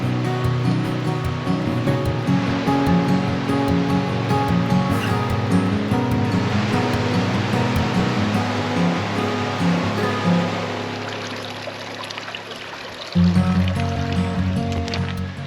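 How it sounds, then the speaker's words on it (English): The lively Borrant river tumbles downhill over falls, rapids and pools along the Tour du Mont Blanc near Les Contamines, a steady broadband rush of water that stays loud and close, easing slightly near the end before a brief surge. "accompanied by the lively Borrant river, with lots of falls, rapids and pools as it cascaded on its journey downhill"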